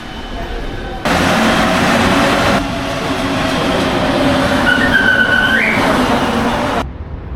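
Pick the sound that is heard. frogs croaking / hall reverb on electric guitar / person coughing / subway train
subway train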